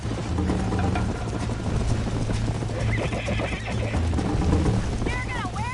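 Horse whinnies and hooves clip-clop at a quick gallop in the video game Red Dead Redemption, with game music and a rumbling background underneath; a brief voice cuts in near the end.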